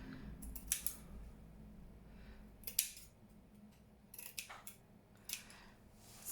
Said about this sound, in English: Just cutting some of that webbing stuff.